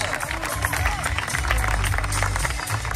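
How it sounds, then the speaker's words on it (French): Crowd at an outdoor high-diving show at Walibi Rhône-Alpes applauding a diver, continuous clapping and cheering with a low rumble and murmur of voices. "Vous pouvez donc l'applaudir bien fort, Aurélien."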